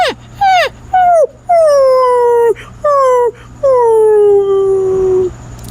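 A human voice imitates a dog whimpering and crying for food, producing a series of loud, close, descending whines and yelps, some short and some drawn out, with brief pauses between them.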